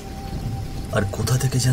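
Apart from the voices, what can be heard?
storm rain and thunder sound effect in cartoon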